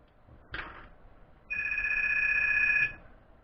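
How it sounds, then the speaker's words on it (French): A telephone rings indoors once, a steady electronic tone lasting about a second and a half, preceded by a single sharp knock, with no talk over it. "le téléphone qui sonne en plein dans ma vidéo"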